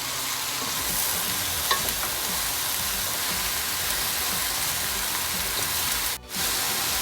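Mushrooms and onions fry in a pan for a mushroom stroganoff, giving a steady, close sizzle with no talking and a brief dip near the end.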